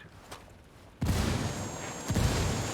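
Frag grenade blast in the video game Ghost Recon Wildlands: a sudden loud boom with a rumbling tail, followed about a second later by a second sharp burst, amid distant gunfire.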